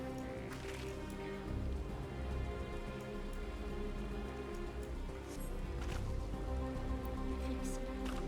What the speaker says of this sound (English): to be fair, it's raining